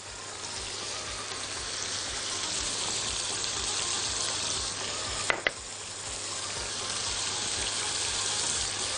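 Liver sizzling loudly in a very hot pan of ghee and oil, a steady crackling hiss throughout with one brief sharp clatter midway, no talking.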